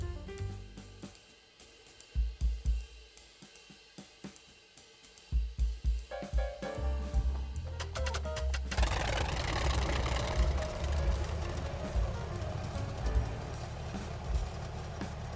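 A de Havilland Tiger Moth engine in Microsoft Flight Simulator coughs through several loud uneven firing bursts, then catches and settles into a steady, loud running drone.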